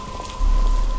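Rain in the Batman: Arkham Asylum video game, a brief steady hiss of falling rain with a low rumble that swells partway through, and no voices.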